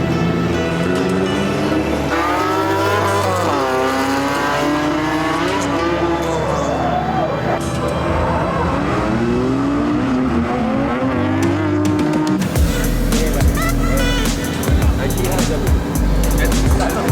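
A drift car at an Irish Drift Series round revs hard and loud with rising and falling engine whines, steady and close throughout, and a rougher, noisier roar late on, with voices talking over it.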